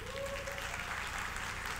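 An audience at a bank executive's inauguration ceremony claps in a steady, even wash of applause, distant and moderately faint, with no single claps standing out.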